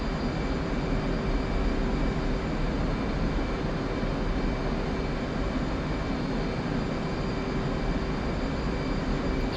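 Steady roar of an F/A-18C Hornet jet engine at raised throttle in the DCS flight sim, continuous and loud without letup, with no talking over it.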